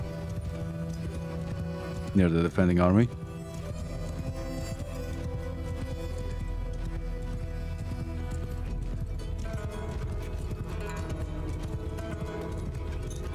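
Cavalry horses gallop in a Mount & Blade II: Bannerlord battle, a steady rumbling stream of hoofbeats running under continuous talk, with a brief tonal call early on.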